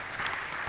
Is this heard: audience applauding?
yes